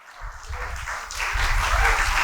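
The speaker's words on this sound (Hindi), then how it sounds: "सब अपने लिए तालियां बजाओ," Students in a New Delhi college lecture hall at an orientation lecture break into applause, a dense crowd clapping that swells louder partway through and continues steadily to the end.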